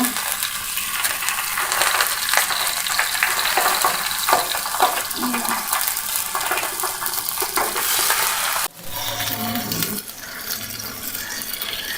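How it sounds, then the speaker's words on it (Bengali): Pabda fish fry in hot oil in a pan, a loud continuous crackling sizzle that briefly drops near the end as the pan is shifted, then carries on more softly, no talk. "তেল গরম হয়েছে, এখন আমি মাছগুলো দিয়ে দিব।"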